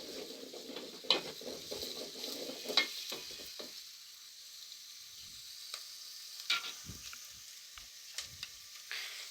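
Chopped onion sizzles in hot oil as a spoon stirs and scrapes the pan, a low continuous frying hiss broken by intermittent metallic clinks and scrapes, close and fairly quiet with no talking, for a Bangladeshi alu ghati dish.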